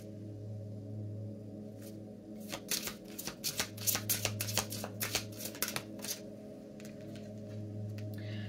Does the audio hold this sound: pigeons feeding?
no